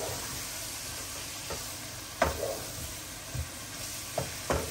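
Fried chicken in a handi cooking pot for chicken karahi sizzles steadily at a soft level, with a few scraping knocks as it is stirred.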